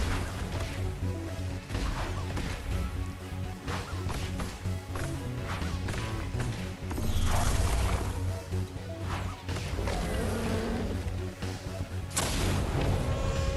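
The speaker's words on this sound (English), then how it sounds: "It's just cannons all the way down." Cannons firing in a video game match, heavy booming blasts and crashes piling over one another in a dense, continuous barrage with occasional louder impacts and whooshes.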